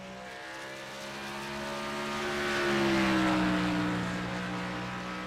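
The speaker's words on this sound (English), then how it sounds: "The third and final Team Fist racing car to take a lap." A race car on a qualifying lap at Charlotte passes by, its engine swelling to a loud peak near the middle and then fading, with the pitch dropping in a Doppler sweep as the car moves away.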